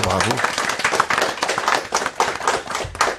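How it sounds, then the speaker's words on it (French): Brief bursts of audience clapping break out at a French cultural evening, uneven and mixed with voices talking over them. "On peut les applaudir encore une fois."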